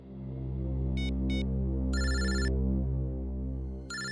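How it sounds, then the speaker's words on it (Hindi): A telephone rings with an office call, sounding in short repeated bursts of bright electronic tones over a low, throbbing musical drone. The rings are clear and close, with no speech. "ऑफिस से फोन"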